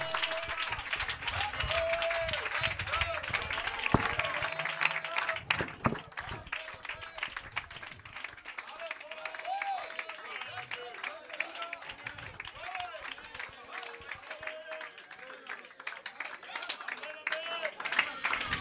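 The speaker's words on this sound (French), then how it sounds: "Donnez-moi l'acclamation." A church congregation claps and cheers in acclamation during a French-language sermon; dense clapping with voices calling out and speech mixed in throughout.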